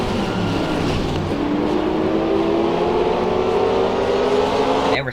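Onboard view from a race car in the 2005 MG Cup Series at Bristol: loud, sustained engine drone with a steadily rising pitch as the car accelerates, cutting off abruptly at the end; no talk.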